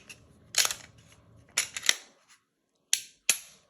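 Trigger of a Shadow Systems MR920 pistol being pulled and reset: a series of sharp, close mechanical clicks and snaps in separate bursts, with quiet gaps between them and no talking.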